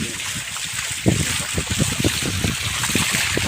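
Water gushes from a solar-powered pump at a farm well in rainy weather, a steady rushing splash with irregular bursts, fairly loud and close.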